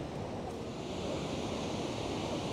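The glacial, milky Nef river rushing and merging with another river gives a steady, full roar of flowing water heard close and continuous with no pauses.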